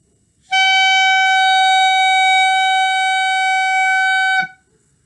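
A single sustained clarinet note played by a student, held steadily for about four seconds, bright and reedy, with a slight wobble at the start and no talking.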